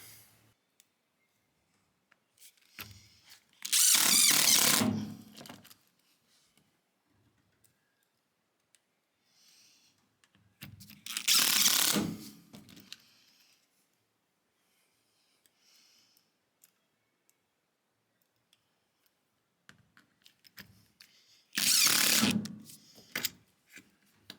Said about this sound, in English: Now let's screw this guy down.